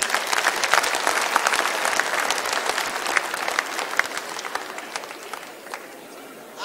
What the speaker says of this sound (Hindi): तो अपने लिए भी एक बार जोरदार तालियां।